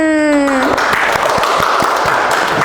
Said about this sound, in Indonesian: Wah, tepuk tangan dulu teman-teman.